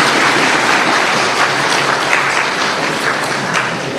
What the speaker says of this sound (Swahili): Tumpigie makofi mengi sana Mheshimiwa Samia Suluhu Hassan